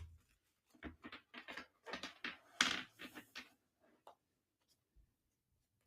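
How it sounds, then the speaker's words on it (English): Cards being shuffled close by, a series of soft papery riffles and slaps in quick bursts, then a few faint taps before quiet. "So I'm going to get quiet and we're going to shuffle the cards."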